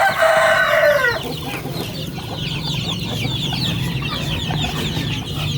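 Darag chickens at feeding time: a loud rooster crow opens, then a busy flock keeps up dense, overlapping clucks and chatter close by for the rest.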